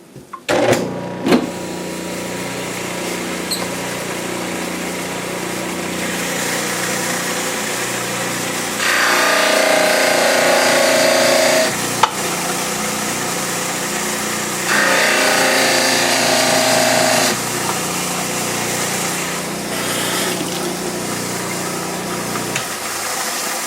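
A dental model trimmer grinds the heels of lab study models, its steady motor hum rising to a louder, harsher grinding in two sustained bursts of a few seconds each before settling back to idle.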